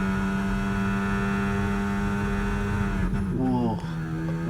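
An Alpine Formula 1 car racing down the main straight in F1 25, a steady, close, high engine whine that drops sharply through quick gear changes near the end.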